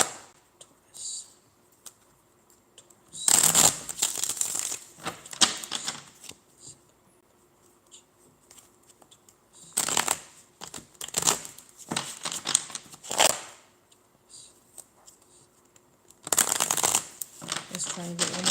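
Tarot cards are shuffled in several quick riffling bursts separated by pauses, close and crisp, with a voice speaking quietly between the shuffles.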